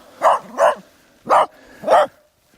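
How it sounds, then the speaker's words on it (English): A dachshund barks four times, with two quick barks, a pause, then two more. The barks are close and fairly loud against quiet outdoor background. "good little wiener dog coming to greet me"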